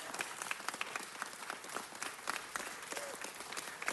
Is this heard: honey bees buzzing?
no